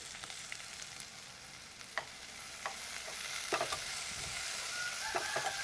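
Fennel seeds sizzle in hot oil in a pan with green chillies, frying as the base of a Jaffna-style potato milk sodhi, with a steady close hiss and occasional sharp crackles and stirring scrapes.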